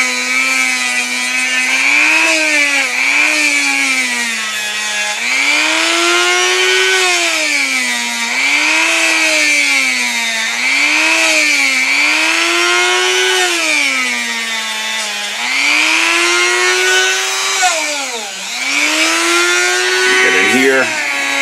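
Buffing wheel with polishing compound working a Singer 66 bobbin case, a loud steady motor whine that rises and dips in pitch as the part is pressed against the wheel, continuous for about twenty seconds with no talk.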